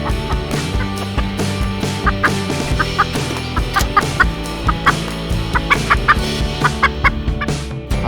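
Chickens cluck repeatedly on a farm, with steady, fairly loud clucks and short higher cackles spread across the clip and no speech over them.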